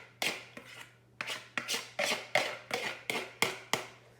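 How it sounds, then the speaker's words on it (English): A spoon scrapes pudding out of a container for a pie, about ten quick, close scraping strokes in an uneven rhythm with no one speaking. "You can even grab yourself a spoon, and you can scrape it out."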